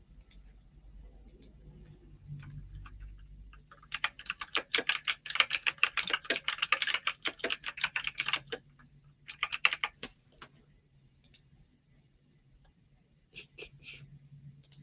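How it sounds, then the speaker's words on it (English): Someone types on a computer keyboard at close range, a dense burst of rapid clicking keystrokes followed by shorter scattered taps over a quiet background hum. "I'm going to type again."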